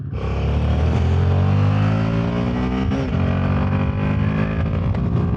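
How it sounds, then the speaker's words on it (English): A Royal Enfield Himalayan 450 single-cylinder adventure motorcycle engine, warm, revs hard and close, its pitch climbing steadily toward an 8,000 RPM redline and holding a loud, continuous drone throughout. "Gonna rev her all the way out."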